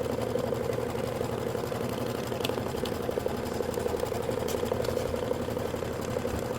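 Kimberbell embroidery machine stitching a line onto stabilizer for a holiday tote, a steady rapid mechanical whir with fast needle ticking running continuously and close.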